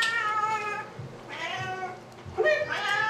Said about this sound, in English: All meows are not equal.